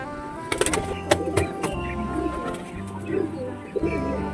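Pigeons, including a female, coo in low repeated murmurs close by, with a few sharp clicks and knocks mixed in and a voice talking over the birds.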